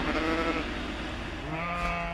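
Sheep bleating in a flock, a continuous wavering chorus of overlapping calls held loud and near for about two seconds with no talk.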